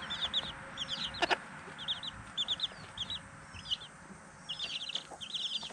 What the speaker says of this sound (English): Yes, this is what chickens do.